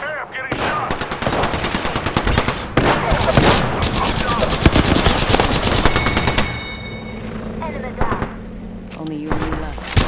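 Rapid bursts of automatic gunfire in a first-person shooter video game, loud crackling volleys interrupted by pauses, with a player talking over the shots.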